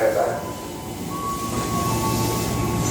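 A new China-built KRL commuter train pulls into a station platform on the Bekasi via Manggarai line, a loud steady rumble with a thin wheel squeal, while a station announcement plays over it.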